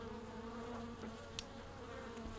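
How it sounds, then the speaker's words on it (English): Steady, close buzzing of bees hums continuously in a quiet setting, with a faint brief tick partway through and no voices. "Frickin' bees, really."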